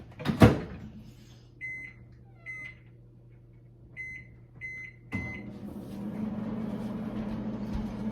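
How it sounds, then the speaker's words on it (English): A steady low hum of a running microwave cooking Thai red curry, with a series of short high beeps, followed by a louder rumbling whir that continues to the end. "this is about 15 to 18 minutes in the microwave."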